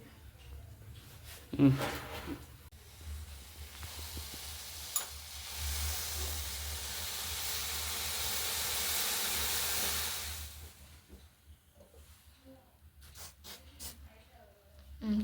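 Milk comes to a boil for tea on a new gas stove, giving off a steady soft hiss and sizzle for several seconds, with someone talking before and after it and faint kitchen clatter.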